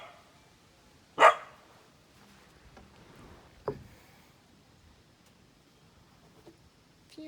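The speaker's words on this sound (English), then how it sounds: "Apologize for my dogs barking." Indoors, a single loud, close dog bark is followed a few seconds later by a fainter, shorter yip, then quiet room tone.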